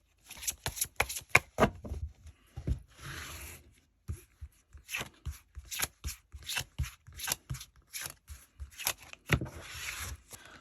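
Tarot cards are shuffled and drawn by hand: quick riffles and sharp card snaps in irregular bursts, separated by short silences, close and fairly quiet with no talking.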